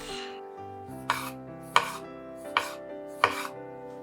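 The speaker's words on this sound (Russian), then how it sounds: "1 или 2 помидора нарезаю тонкими колечками." A knife slices tomatoes into thin rings on a cutting board four times at an unhurried, steady pace, each crisp chop cutting through a sustained musical background.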